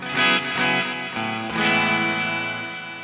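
Electric guitar played through the tremolo effect on a Zoom G6 multi-effects processor, sustained distorted chords with a pulsing volume wobble, loud and alone with no talking.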